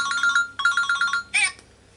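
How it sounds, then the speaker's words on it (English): An electronic phone ringtone chirps indoors during a home colouring session, repeating in quick pulsing bursts and ending with a brief higher trill before stopping. "Logan, can you come grab the phone, please?"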